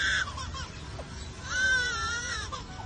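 A bird mimics a crying infant with wavering, wailing calls: a short cry at the start, then a longer, louder drawn-out wail in the second half, heard alone without talk.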